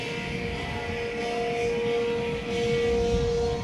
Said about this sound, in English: And then the tornado siren started.